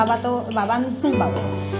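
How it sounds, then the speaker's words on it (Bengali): Bitter gourd frying in a pan, a close sizzle mixed with scraping stirring strokes, while a voice talks over the top. "আজকে উচ্ছে ভাজা হচ্ছে"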